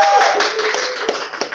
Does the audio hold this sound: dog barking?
no